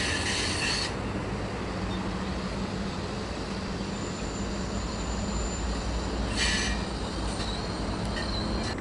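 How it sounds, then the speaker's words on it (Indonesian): A CIT inspection train runs from Tegaluar station toward Halim on the high-speed line, a loud, steady rumble and roar of rolling wheels with brief high squeals, continuous throughout. "CIT baru saja meluncur dari arah timur depo Tegaluar menuju stasiun Tegaluar"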